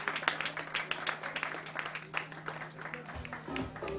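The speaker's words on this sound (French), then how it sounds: "vous pouvez applaudir encore une fois Mathis Grisel du CC Nogent-sur-Oise" Crowd applause rings out for Mathis Grisel of CC Nogent-sur-Oise, winner of the Bercycle time-trial cycling race: steady, dense clapping from a gathered audience over a low electrical hum, thinning toward the end as a voice comes in.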